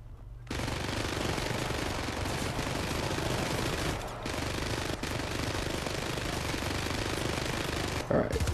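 Near-continuous gunfire in the video game Syndicate during a co-op mission in Argentina, dense rattling bursts with brief breaks, loud and close under a player talking.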